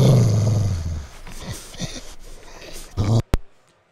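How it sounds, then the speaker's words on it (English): A Rottweiler gives a deep, mean-sounding growl up close, loud at first and then trailing off within a second, followed by scattered quieter sounds and a sharp click. "and a Rottweiler growling, pretty mean sounding dog"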